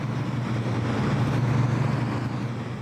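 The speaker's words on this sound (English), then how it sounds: "and the fans needed to cool them." Stacks of computer servers in a crypto mine in Cherokee County, with their cooling fans running, make a loud, steady droning roar with a low hum underneath, continuous and unbroken.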